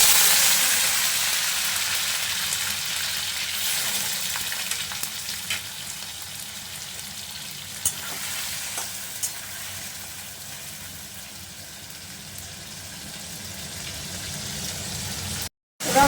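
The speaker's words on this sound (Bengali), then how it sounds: "এখন তেলটা গরম হয়ে গেছে এখন আমি লোটে মাছগুলো আস্তে করে ছেড়ে" Lote fish, also called Bombay duck, frying in hot oil in a Bengali home kitchen: a steady, dense sizzle and crackle with a few sharp pops, close and loud throughout before cutting out at the very end.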